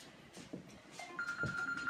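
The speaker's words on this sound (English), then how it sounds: "Please excuse my phone ringing." A phone rings with a steady electronic tone partway through, fairly faint beneath room noise and a few quiet knocks.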